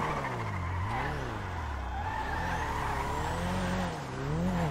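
A Nissan Skyline GT-R R34 drifts in the GTA 5 video game, its engine droning steadily while tires squeal in long wavering tones, loud and continuous throughout with no talk.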